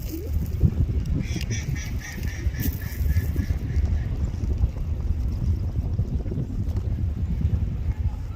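Ducks quacking at a park pond where birds are being fed, their calls scattered through steady outdoor background noise with some voices nearby.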